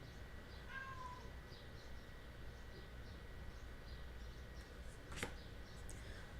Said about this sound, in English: Let me go let the cat out, because if I don't, he's just going to keep meowing